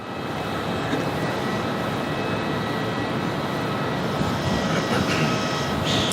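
A Velocity Boeing 737-800 arriving from Sydney touches down and rolls out on runway 14 at Gold Coast Airport, producing a steady, loud, unbroken jet roar throughout.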